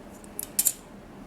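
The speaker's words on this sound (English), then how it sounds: "Just going to trim off the edge over here" Scissors snip through the edge of a translucent polymer clay cane, two or three quick quiet cuts close by, with no talking.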